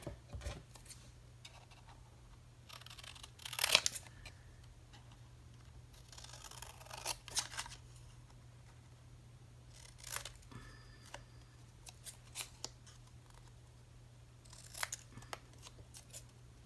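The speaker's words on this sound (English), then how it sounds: "The small tag, you cut it out." Scissors snip a small inked paper tag for a flower-themed tri-fold tag booklet, giving a handful of close, quiet cuts spread out with pauses between them over a low steady hum.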